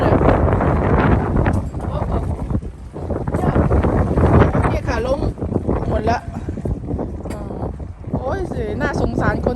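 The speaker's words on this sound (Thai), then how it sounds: "ลมแรงค่ะ สองสามวันมาเนี้ย ลมแรงมาก" Strong wind gusting outdoors through a village street decorated with Christmas lights, a broad continuous roar buffeting the microphone throughout, with someone talking over it.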